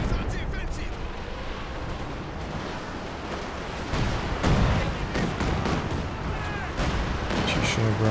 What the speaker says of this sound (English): Barrage coming in, hoping to clear out these support weapons.